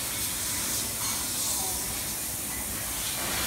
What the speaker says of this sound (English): we have to use a pipe cleaner in order to get every debris out inside of the suction